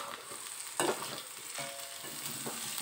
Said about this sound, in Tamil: புளி, தேங்காங்க, உப்பு, இதுவும் சேர்ந்து நல்லா கலக்கி விட்டுருலாங்க